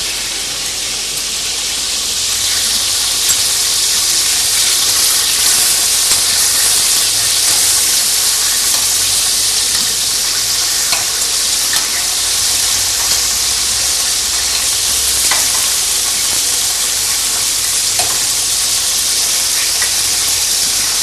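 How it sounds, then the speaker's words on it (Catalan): Prawns fry in hot oil in a pan as they are stirred, giving a loud, steady broadband hiss and sizzle with faint scattered crackles throughout, and no voices. "De tant en tant hem d'anar remenant els llagostins perquè no se'ns cremin de només un costat."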